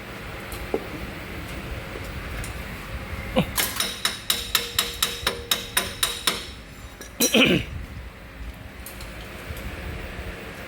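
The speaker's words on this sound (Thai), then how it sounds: "เคาะเข้ไปเลย" A part being hammered into an engine during repair: about a dozen sharp metallic taps in a quick steady series, close and loud, followed by a brief scraping clatter, with shop background noise around.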